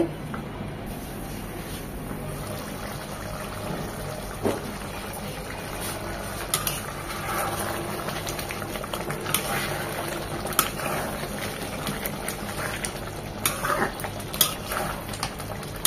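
Beef curry bubbles steadily in a pot as it reduces, a continuous close simmering burble with occasional small pops and clinks, no voices.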